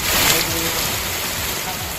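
Heavy monsoon rain in Maharashtra pours down in a dense, constant roar of rushing water, loud and unbroken throughout.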